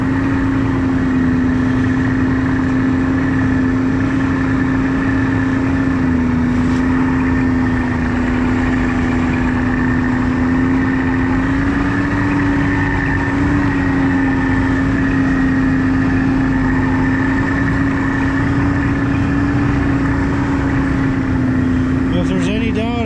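A Ski-Doo Expedition Sport snowmobile engine runs steadily at a constant idle-like drone, loud and close, with an even tone throughout and no talk over it.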